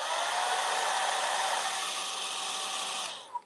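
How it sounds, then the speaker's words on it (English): A blow dryer runs in a steady, close whir for about three seconds while drying acrylic paint with floating medium during a painting session, then cuts off with a small click. "we are going to hit it with a blow dryer"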